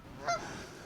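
Geese honking on a mountainside, one short pair of nasal calls rising briefly above a quiet, open outdoor hush.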